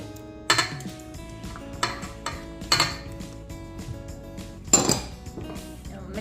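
A utensil stirs egg, egg yolk, vanilla and yogurt together in a bowl for cookie dough, giving irregular, close clinks and scrapes against the dish.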